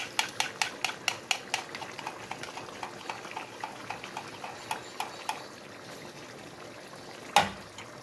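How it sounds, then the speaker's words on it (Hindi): A utensil whisks yogurt in a bowl for a spicy potato and chicken dish, giving steady rhythmic taps and scrapes that slow and fade, then one sharper knock near the end. "दही को अच्छी तरह फेंट लेना ऐसे करके"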